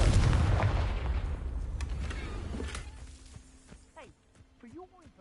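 A Confringo blasting spell in Hogwarts Legacy goes off as a loud explosive boom with crackling debris that trails away, followed by a voice speaking near the end.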